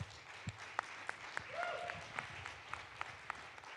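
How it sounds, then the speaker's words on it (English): Scattered, fairly faint audience applause, with sparse individual claps and a soft crowd murmur as people talk in the background. "So give them a round of applause."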